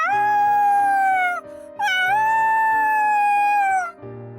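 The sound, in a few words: howling from a video game, Sabbat of the Witch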